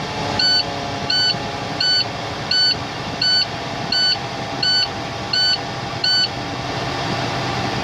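A truck's air brake system low-pressure alarm beeps in a steady, evenly spaced series of about nine short, high-pitched tones over a running engine idle.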